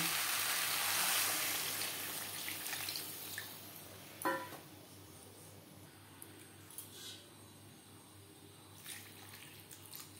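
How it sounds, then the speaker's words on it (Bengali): Water poured into a pan of fried spices for a potato and green banana fish curry, a splashing hiss at first that fades into quieter bubbling and a few soft clinks. "1-2 মিনিট নাড়াচাড়া করে নেওয়ার পর দিয়ে দেবো জল।"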